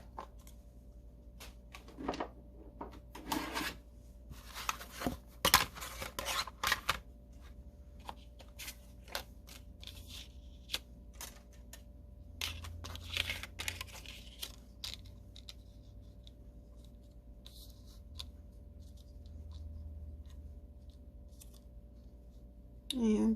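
Scissors cut card stock while a Valentine's Day card with a peony design is assembled, giving a scatter of quiet, close snips and paper rustles in an otherwise still room.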